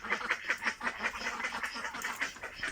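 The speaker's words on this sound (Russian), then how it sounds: "Утки ждут." Domestic ducks quack repeatedly in a muddy, rain-soaked backyard poultry yard, a steady run of overlapping nasal calls from several birds nearby, loud and continuous with no talk.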